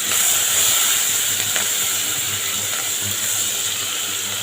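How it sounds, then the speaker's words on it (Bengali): Cinnamon, cardamom, cloves and bay leaves stirred in hot oil for mutton curry give a steady, fairly loud frying hiss with faint scraping clicks of stirring, no talking. "দারচিনি, 4টে ছোটো এলাচ আর লবঙ্গ দিয়ে দিলাম, আর 2টো তেজপাতা আর একটু গরম মশলা দিয়ে এবার আমি নাড়াবো"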